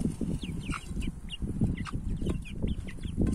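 A flock of chickens, including roosters, clucks steadily nearby, many overlapping calls forming a busy, continuous murmur with occasional higher squawks.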